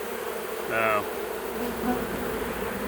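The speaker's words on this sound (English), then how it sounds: "they're standing at the entrance fanning" A honeybee swarm fans at a hive entrance, making a constant close insect hum, with a brief louder buzz of a single bee flying past near the mic.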